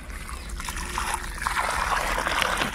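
Water is poured onto soil around a newly planted tree, a close trickling and splashing stream that swells louder midway, with faint background noise.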